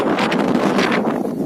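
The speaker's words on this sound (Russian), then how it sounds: "Ветер." Strong wind over Lake Ladoga, with whitecapped open water and reeds along the shore, buffets hard and gusts in uneven surges, a loud, close, roaring hiss with no voices.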